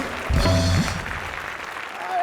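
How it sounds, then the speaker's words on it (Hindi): A television comedy studio audience breaks into applause, with a short musical sting over the first burst, then a softer spread of clapping continuing beneath the room. "पाजी की याददाश्त के लिए जोरदार तालियां"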